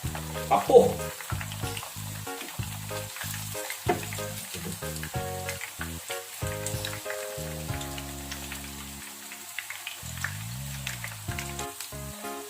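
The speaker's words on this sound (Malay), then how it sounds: "Kita goreng sampai garing ya." Food deep-frying until crisp, a steady close sizzle and crackle of hot oil running throughout, with bursts of bubbling and faint background noise.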